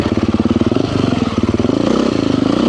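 A 2024 Beta 480 RR enduro motorcycle engine runs loud and close with a steady pulsing thump, holding a rough, even rhythm throughout.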